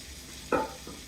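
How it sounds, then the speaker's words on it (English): Cauliflower is added to a pan with bacon for orecchiette, setting off a brief loud sizzle and clatter amid a low ongoing frying hiss, followed by a softer second stir. "Go ahead and add cauliflower."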